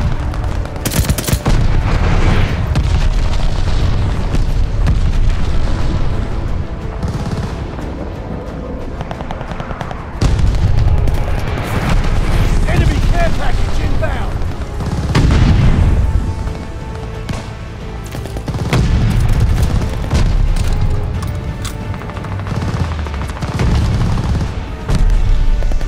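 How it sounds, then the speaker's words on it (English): Loud, dense explosions and booms from glide bombing in the video game Call of Duty Vanguard, with heavy gunfire rolling through a multiplayer deathmatch on the Demyansk map, in waves that barely let up. "enemy's got a glide bombing coming."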